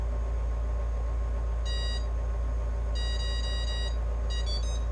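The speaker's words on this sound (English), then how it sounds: "So when I power it up, we'll hear 4 beeps." A needle cutter powers up at a higher voltage, giving electronic beeps in a few short bursts over a loud, constant machine hum, spaced unevenly and closely grouped.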